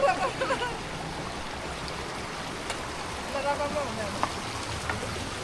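A small clear stream flows through the jungle with a soft, continuous watery burble, fairly close, and a few faint light clicks on top.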